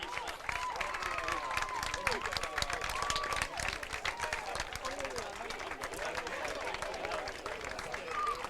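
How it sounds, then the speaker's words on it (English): Crowd noise after a high school softball regional win, with scattered clapping and cheering under nearby talk and whistles, moderately faint and continuous. "Let's listen into the crowd."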